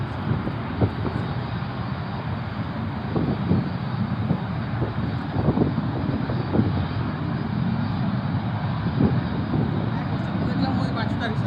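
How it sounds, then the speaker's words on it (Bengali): Two fighter jets stand on the runway at Shahjalal International Airport as their engines spool up. A loud, continuous roar fills the air while someone talks over it. "এটিসি টাওয়ার থেকে সংকেত দিয়ে দিয়েছে, তাই বিমানের ইঞ্জিনের গতিটা বাড়িয়ে দিয়েছে"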